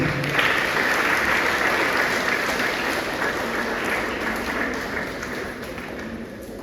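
Crowd applause at a school centenary ceremony at École Léonce Mégie, a broad, steady wash of many hands clapping that slowly fades toward the end.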